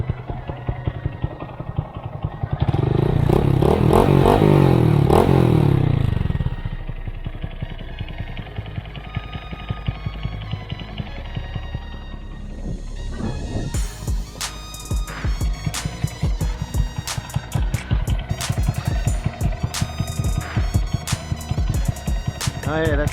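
A 2022 Honda Grom motorcycle fitted with an aftermarket Amazon exhaust, heat-wrapped, revs loudly in a sustained burst, then settles into a busier stretch of engine noise with clattering knocks and thuds nearby.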